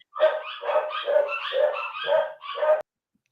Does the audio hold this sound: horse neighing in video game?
no